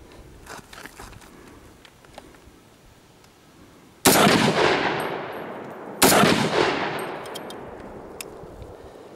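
Two loud, sharp gunshots from an Ensio Firearms KAR-21 multicaliber rifle, chambered in .223/.308, fired a couple of seconds apart, each with a long ringing decay after a quiet stretch.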